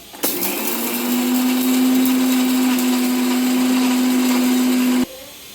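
A mixer grinder whirs loudly and steadily for about five seconds, grinding coconut chutney close by, then cuts off abruptly.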